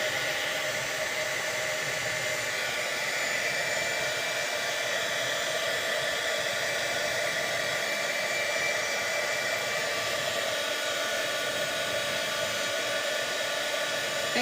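A hair dryer dries ink on a mixed media art piece, giving a steady, close, unbroken airy roar with a faint whine that holds level throughout, with no talking.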